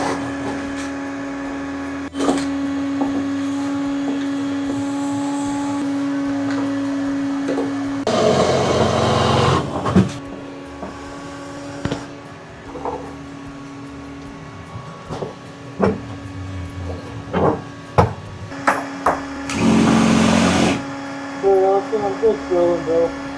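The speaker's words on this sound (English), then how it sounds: "I'm just drilling, bro." A power drill whines in several bursts during a heavy-duty steps build on an RV hauler, loud nearby bursts separated by steady machine hum, thuds and clanks of work, with people talking at times.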